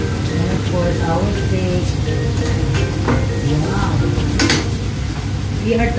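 Steak sizzling and frying in a pan, a constant loud hiss with occasional clinks of utensils and pans, under a person talking.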